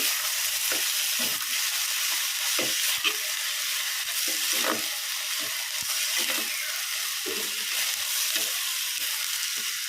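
An egg dish fries in oil with a loud, continuous sizzle and crackle, broken by scraping stirs at irregular intervals.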